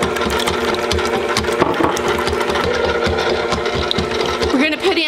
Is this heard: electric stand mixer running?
yes